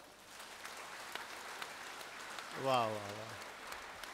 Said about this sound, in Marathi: परत एकदा अशा दोन टाळ्या वाजवा.